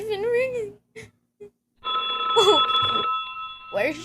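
A telephone rings as a sound effect in a school radio play of Sorry, Wrong Number, a sustained electric bell tone for about a second, with a voice speaking before and over it.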